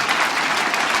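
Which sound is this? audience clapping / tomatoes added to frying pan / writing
audience clapping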